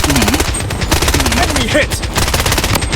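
Rapid automatic gunfire in a shooter video game, dense bursts of shots running almost continuously across the moment, loud and close, with a voice talking over parts of it.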